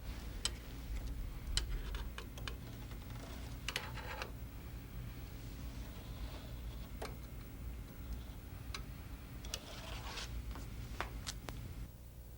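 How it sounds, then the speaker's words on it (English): Small, sharp clicks and ticks come from screws being removed from a Color LaserWriter 12/600 PS printer. They are scattered irregularly over a steady low hum, and no one speaks. "Next, remove the 6 silver-colored screws."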